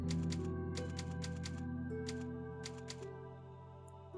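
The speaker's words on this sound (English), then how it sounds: "Yeah, the typewriter." In the video game Resident Evil 4, the typewriter save point clacks in quick rhythmic bursts of keystrokes over a soft, sustained musical backdrop, fairly faint overall.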